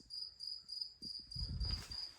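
Crickets chirp in a steady high pulsing trill, fairly faint and continuous, with some low rustling and knocks underneath.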